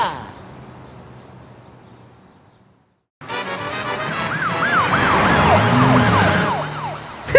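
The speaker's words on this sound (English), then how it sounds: "I found my siren." A cartoon police car's siren bursts in after a short quiet gap and wails loud and close with rising and falling tones, while an animated voice talks over it.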